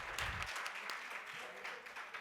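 An audience claps faintly and steadily to welcome Hitesh Jani onto the stage, a soft, scattered patter at low level throughout.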